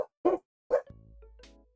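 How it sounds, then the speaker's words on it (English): Two short, sharp dog barks sound close by, followed by a sustained tonal whine or whimper. "Let me check what my dogs are barking at."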